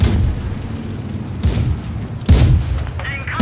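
Loud tank cannon shots in the online game World of Tanks Blitz. Three heavy booms are spaced a second or so apart over a constant engine rumble, with a player talking excitedly between them.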